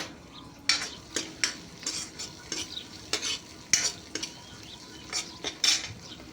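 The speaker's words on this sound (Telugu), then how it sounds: "ఇప్పుడు ఈ పోపు వేగుతున్నది కదా" Spice tempering sizzles in a pan for Telugu palak dal (spinach lentils), with a steady crackling fry and repeated sharp scrapes and clinks of a spoon against the pot, close up and without speech.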